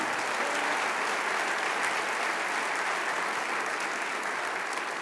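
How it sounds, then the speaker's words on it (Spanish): A church congregation applauds throughout, dense steady clapping from a large crowd at constant loudness, no break for the full few seconds. "Vamos, dale ese aplauso."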